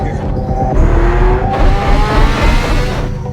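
A car speeds through a movie chase scene, its engine roaring loud and close, with tire squeal and a busy, dense mix of other noise throughout.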